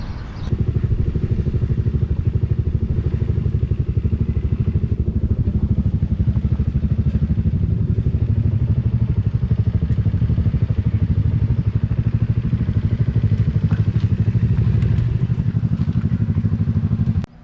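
A motorcycle rides steadily with a continuous loud, rumbling engine drone and rattling clatter that holds nearly constant throughout, close to the rider, on the way to a castle site in Buriram.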